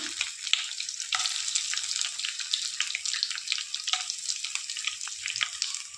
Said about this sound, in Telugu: దీంట్లోనే కొంచెం బిర్యానీ ఆకు, చెక్క, లవంగా వేసుకున్నామండి